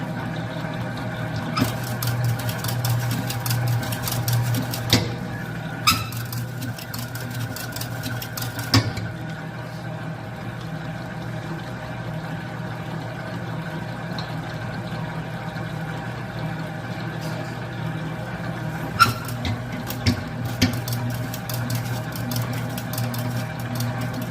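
A stand mixer whips meringue for biscuit savoyard, a steady mechanical whir with a low hum running throughout, broken by a few short clicks or knocks, with no talking.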